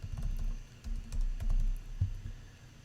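Quick bursts of typing on a computer keyboard, soft close-up key clicks in short irregular clusters over a quiet background.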